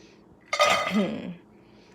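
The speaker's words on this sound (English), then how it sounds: "we're gonna go ahead and add our walnuts to the skillet" Walnuts tumbling into a skillet for candied walnuts give a short, close clatter of hard pieces against the pan, followed by quieter stirring.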